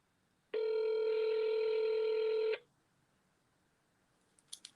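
A telephone call tone plays as one loud, steady electronic ring burst lasting about two seconds, followed by quiet line hiss and a couple of faint short clicks near the end.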